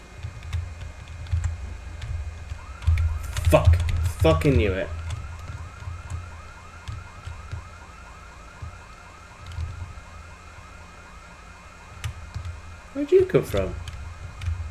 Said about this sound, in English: house alarm's going off though